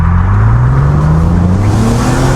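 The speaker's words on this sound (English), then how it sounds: "the noise from these old 6-cylinders is like nothing else. It's so raw and raspy" A loud six-cylinder 1990s BMW Z3 2.8 engine pulls hard under acceleration, its raspy tone climbing steadily in pitch as the revs build.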